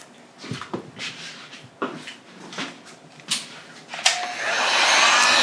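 A heat gun blows hot air over a leather shoe on a last to work out creases, a steady loud whooshing roar starting after several bumps and knocks of handling.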